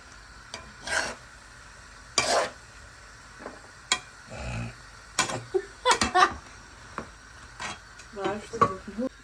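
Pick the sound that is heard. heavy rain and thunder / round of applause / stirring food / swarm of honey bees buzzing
stirring food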